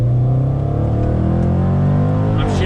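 A 2020 Jaguar F-Pace SVR performance SUV, its engine revving loud and close as the driver downshifts with the paddles into a bend, a strong steady throaty drone from the cabin.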